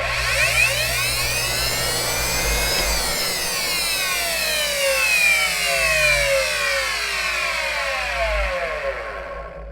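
A Miele C1 canister vacuum cleaner runs loudly and continuously with a roaring, jet-like whine whose pitch sweeps and shifts, then cuts off abruptly at the end.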